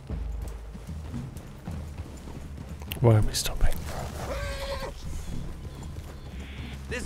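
Horses in Red Dead Redemption 2 clop along with a whinny partway through, alongside quieter hoof steps and ambient outdoor sound, while a voice speaks briefly.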